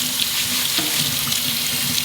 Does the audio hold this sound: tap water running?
yes